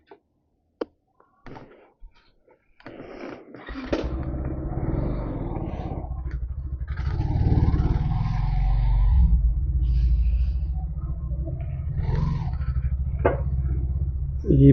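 A Yamaha motorcycle is eased through a home gate after a breakdown and servicing. A few knocks come first, then its engine starts and holds a loud, close, steady idling rumble that swells slightly toward the middle.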